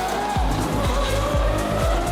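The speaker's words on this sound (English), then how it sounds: "a custom F1 exhaust system that turned the SVJ into an absolute screamer" Lamborghini Aventador SVJ fitted with a custom Gintani F1 exhaust, loud and close, with a sustained high engine scream and four evenly spaced sharp low pops or shift cracks.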